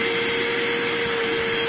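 Vacuum cleaner running off an EcoFlow portable battery during a car renovation, a loud continuous whine and rushing hum with a steady tone, unbroken and without speech.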